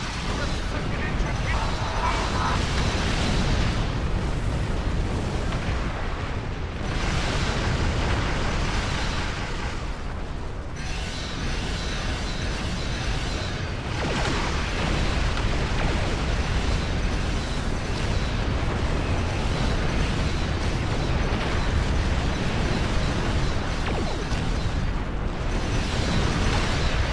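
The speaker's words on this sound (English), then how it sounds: "about to blow up a fortress" Repeated explosions and booming bursts from a fortress being blown up in the space game Star Trek Online, loud and dense throughout, with battle noise and talk mixed in.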